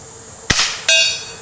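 A single quiet .22 rifle shot fired with CCI 710 quiet ammunition, a short sharp crack followed a fraction of a second later by a faint distant impact, with no talking.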